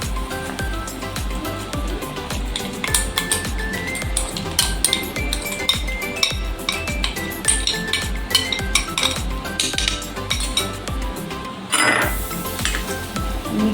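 A spoon stirs a besan and yogurt mixture into boiling kadhi in a metal pot, with rapid repeated clinks and scrapes against the pot and a faint sizzle, loud and close, with no voices.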